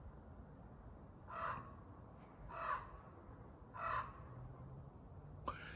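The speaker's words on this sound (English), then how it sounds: "these crows are loud today" Three crows caw in a slow, evenly spaced sequence outdoors, each call a harsh, moderately distant burst about a second apart, over faint background noise, followed by a brief sharp click at the end.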